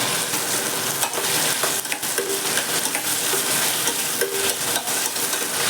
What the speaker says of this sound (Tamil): இன்னும் ஃப்ரை ஆகும் வறுத்து இந்த பன்னீரை ஆட் பண்ணியிருக்கோம்